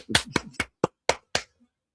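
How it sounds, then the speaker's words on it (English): Hands clapping six times, sharp and close, the first few quicker and tighter, then slowing into evenly spaced single claps before stopping. "Clap your hands."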